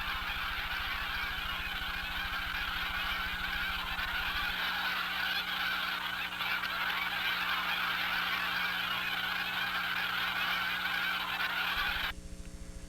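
Flocks of migratory geese and other waterfowl honk over a Gulf Coast marsh below Lake Charles, Louisiana, with a dense, continuous chorus of calls running loud and steady throughout, no voices present.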